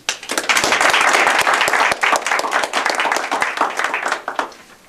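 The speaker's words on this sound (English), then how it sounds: "let's just give a round of applause to our guest speaker who is here tonight, Louis Denbaum." A meeting audience claps for a guest speaker, with dense, close applause that holds for several seconds before thinning out and stopping.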